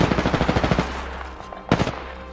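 Rapid automatic gunfire from the Apex Legends video game, a fast burst of about ten shots, then a pause and a second short loud burst, close and dense with no talking.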